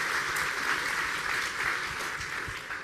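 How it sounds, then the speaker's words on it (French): Audience applause at a French corporate philanthropy awards ceremony for a women's foundation, a dense steady wash of many hands clapping that stays loud and even throughout, with no voices standing out. "On peut vous applaudir."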